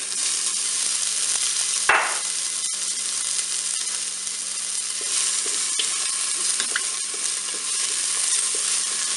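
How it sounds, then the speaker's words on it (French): Asparagus fries in hot oil in a Cookeo multicooker pot, giving a steady loud sizzle with one sharp knock near the start and a few faint clicks of stirring. "Ça y est, mon huile est chaude, donc je vais mettre les asperges."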